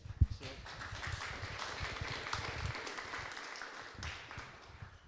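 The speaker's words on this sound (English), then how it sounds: "I'll just assume you guys are applauding because I was taking the mic." Audience at a Rubizza 2019 conference speech applauding, a steady wash of clapping from a crowd that swells after a sharp opening clap and then tapers off over a few seconds.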